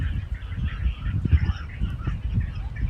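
A large flock of birds gathered at a scenic spot in Tamil Nadu, with goose-like honks overlapping continuously over a low, busy background clamour and no voices.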